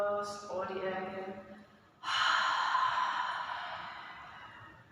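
Long, full breath blown out during a kriya yoga breathing exercise, a close breathy rush following a spoken voice, fading slowly over a few seconds.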